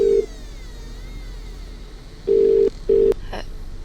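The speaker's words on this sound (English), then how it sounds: "Answer the phone." A telephone rings in a dark adventure game, The Cat Lady: short electronic tones in brief bursts, one near the start and then two close together, each standing alone over a quiet, low background hum.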